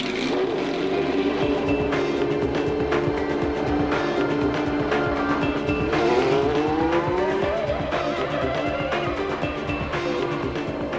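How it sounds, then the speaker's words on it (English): Two-seater Minardi Formula One cars lapping at Donington, a continuous loud high-pitched engine wail with shifting revs and passing cars, no talking. "The European Minardi team had no less than 5 two-seater Formula One cars at Donington"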